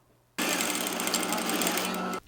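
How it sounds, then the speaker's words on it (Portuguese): A sewing machine starts abruptly and runs at a fast, steady stitching rhythm while masks are sewn at home, loud and close, continuing without a break until it stops near the end. "O barulho da máquina de costura voltou a dominar o ambiente na casa da Dona Ivone"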